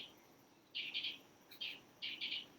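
A bird calls in three short bursts of bright, high chirps, fairly clear against a quiet background with no talking.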